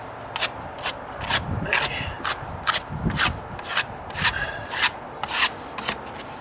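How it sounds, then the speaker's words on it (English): A wood chisel scrapes hardened wood filler off deck stairs in a string of short, rasping strokes at a steady rhythm, close up and clear with no voices. "You get a wood chisel and kind of go off and skin off it a little bit."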